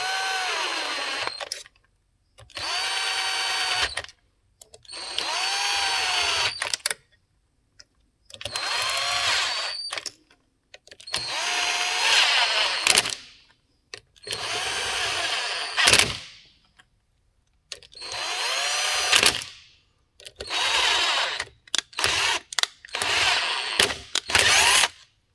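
A power tool drives Loctite-coated bolts into the case halves of a Kawasaki KX100 engine during a bottom-end rebuild, running in about ten loud, close bursts of a few seconds each with short pauses between.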